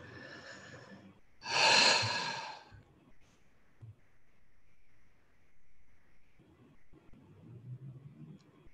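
A deep audible breath during a guided meditation, one loud airy inhale and sigh near the start followed by quieter, softer breathing and faint low rumble, no talking.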